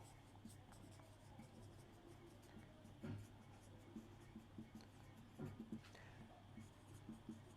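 A pen scratches steadily on paper during a Class 8 geometry lesson on quadrilaterals, faint and close, in short stroke bursts with small taps and pauses.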